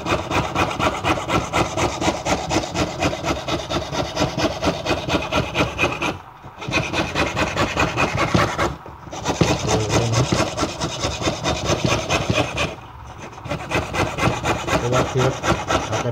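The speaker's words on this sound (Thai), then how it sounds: "การเลื่อยพลาสติกตัวนี้นะฮะ" Hand saw cutting through an acrylic plastic amulet frame, a steady rapid rasping stroke that runs continuously and loud, broken by three brief pauses around six, nine and thirteen seconds.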